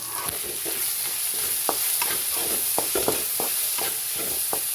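Turmeric, cumin and coriander powder fry in a pan as a spatula stirs them, a steady close sizzle punctuated by regular scraping and knocking strokes, with no voices.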